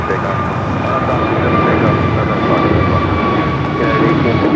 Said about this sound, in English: runway 25 right at Foxtrot, clear for takeoff.